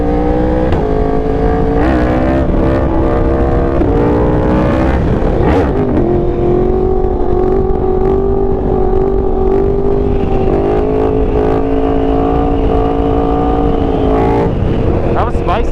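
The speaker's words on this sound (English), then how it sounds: "Just gonna use some downshifts and hold on." Yamaha R1 sport motorcycle on a fast group ride, its engine droning loud and close with rising and falling pitch as it shifts and revs, wind noise throughout and a voice talking over it.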